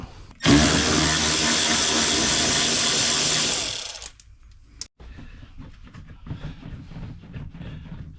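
A power tool spins out 8mm screws beneath a Jeep Cherokee Trailhawk, one loud, sustained whir lasting several seconds that stops abruptly, followed by a sharp click and quiet handling noises.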